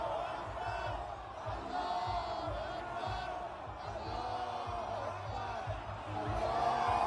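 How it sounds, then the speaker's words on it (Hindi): A large crowd of protesters packs the streets of Tehran, a dense roar of many voices with shouts rising and falling steadily throughout, loud and continuous. "ये फिर देखिए, ये भारी संख्या में लोगों की भीड़"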